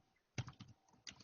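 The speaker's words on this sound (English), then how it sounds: "I was just typing into the session" A few faint, quiet keystrokes on a computer keyboard, irregular taps spread over about a second, with no speech.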